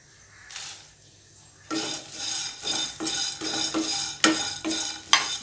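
Curry leaves and dried red chillies fry in a pan for curry leaf kulambu, with a soft sizzle giving way to repeated scraping stirs and clinks of a spoon against the pan, close and fairly loud, no talking.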